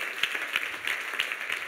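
A church congregation claps in a quick, uneven rhythm, many hands together, heard at moderate distance and fairly soft.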